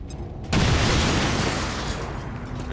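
A grenade explodes in the XCOM 2 video game: a sudden loud blast after a brief quiet lead-in, followed by a dense, rumbling roar that slowly fades over the next two seconds.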